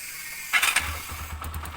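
A motorcycle engine starts with a short mechanical crank and catch, then settles into a low, uneven idle putter close by.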